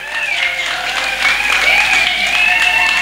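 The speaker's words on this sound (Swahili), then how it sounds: "Makofi kwangu." Brief, steady applause from an audience at a church gathering fills the space, with a bright, sustained tonal edge like cheering riding over the clapping.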